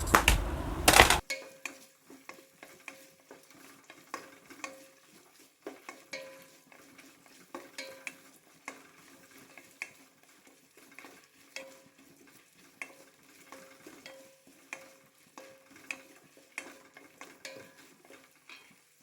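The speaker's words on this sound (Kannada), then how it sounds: "ಇದನ್ನು ಚೆನ್ನಾಗಿ ರೋಸ್ಟ್ ಮಾಡಿ" Byadgi chillies roast in a pan with a steady series of soft scrapes and stirs, a faint sizzle under them, after a brief loud clatter at the start.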